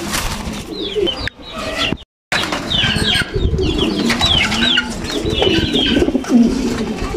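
Racing pigeons cooing in a loft, repeated close throaty coos with bursts of wing flapping and a brief gap of silence.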